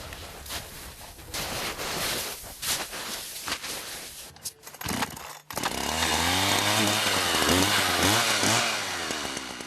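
Chainsaw cutting a tall tree during Russian winter logging in deep snow, starting with rough revving and uneven bursts, then settling into a loud, steady, close high whine as the blade bites into the trunk.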